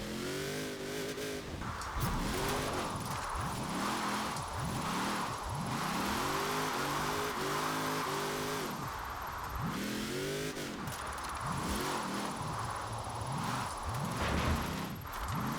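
A Hot Wheels dually truck's engine in Forza Horizon 4 revs up and down repeatedly in a steady rhythm of rising and falling pitch, loud and close throughout, with no voices.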